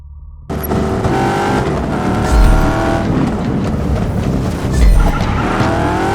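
A car skidding under the handbrake in the video game Just Cause 3, loud engine roar with a sustained tire squeal that starts abruptly and holds steady throughout, close and dominant, with no talk.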